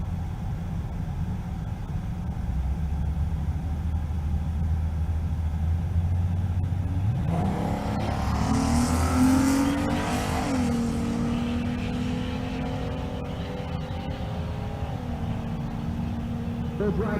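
An Audi drag race car idles then revs hard and launches at a drag strip during race week in Kearney, Nebraska, the engine note climbing loud and near over crowd ambience and an announcer's voice.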